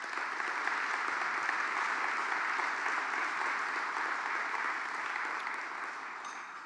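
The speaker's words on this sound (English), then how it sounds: "So please give Ben a round of applause" Sustained applause from a luncheon audience honoring a speaker, a dense steady wash of many hands clapping at close range that holds strong before easing slightly toward the end.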